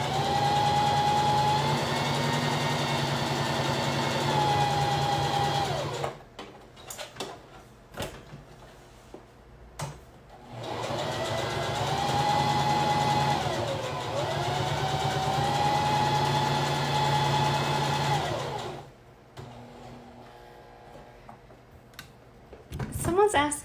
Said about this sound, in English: we're gonna drop the presser foot again and keep sewing